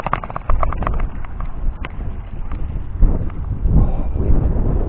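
Gusty wind buffets the microphone at an outdoor campsite, a continuous low rumbling roar that swells and eases in waves, loud and close, with no voices over it.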